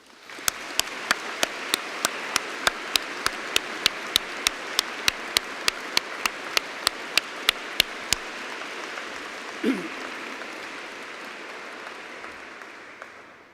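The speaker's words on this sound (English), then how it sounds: "So let's give them a round of applause." Sustained applause from a degree ceremony audience at Ely, a dense steady clapping wash lasting throughout, with a few sharp regular clicks over the first half and a brief voice near the end.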